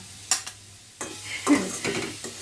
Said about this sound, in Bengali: পাত্রটার মধ্যে আমি কফি ভাজাটা নামিয়ে নেব